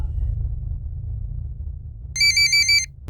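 A telephone rings in a short burst of bright electronic trills near the end, after a low steady rumble, with no one speaking.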